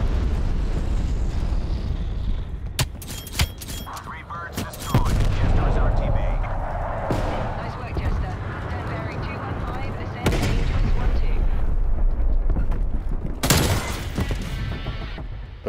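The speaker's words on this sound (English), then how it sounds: "He's just holding down the right trigger with an M60" An M60 machine gun fires in Call of Duty Black Ops Cold War, with sustained heavy bursts and explosions layered into dense, loud gunfire, and a voice talks over part of it.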